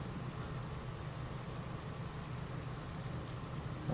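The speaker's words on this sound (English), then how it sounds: "And here comes rain." Rain falls in the cycling game Pro Cycling Manager during a race in Austria, a dense, steady hiss of rain with no voices over it.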